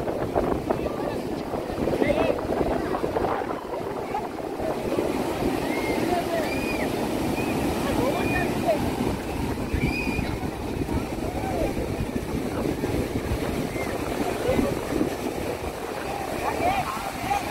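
Waves at Baga Beach in North Goa during June roll in steadily with a continuous wash of surf, while wind buffets the microphone and voices can be heard beneath the water.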